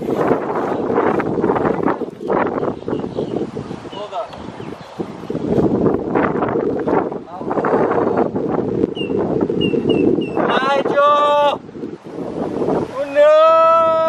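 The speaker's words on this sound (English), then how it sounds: "as you can see, and as you can probably hear, the wind" Strong wind buffets the microphone aboard a fishing boat out on open water, a steady roaring gust with water noise beneath, while someone talks over it and brief whistle-like tones rise near the end.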